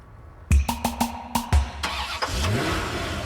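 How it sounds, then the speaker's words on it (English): A car starter motor cranks in a quick series of sharp bursts, then the engine coughs and churns roughly but fails to catch, the sound close and fairly loud with no voices. "We can't start the pissing car."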